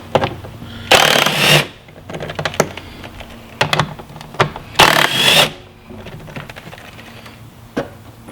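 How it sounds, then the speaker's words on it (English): An impact hammer zips out 5/16 inch bolts on a Jeep air filter cover, two loud whirring bursts separated by sharper rattling taps and clicks, close up with no talking. "it might seem a little overkill that I'm going to use my impact hammer here"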